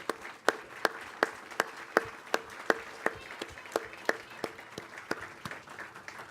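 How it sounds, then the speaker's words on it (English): Sparse applause at a ribbon-cutting ceremony for a campus child care center, with a small audience clapping at an even rhythm of about two sharp claps per second, moderately near and fairly soft. "A hearty round of applause to our colleagues who helped make this project happen"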